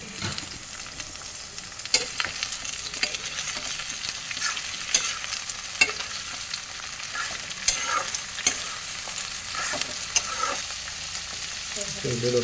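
Boiled, cut silkworm fries in a pan with a constant close crackling sizzle, punctuated by scattered sharp pops and clicks of stirring utensils throughout.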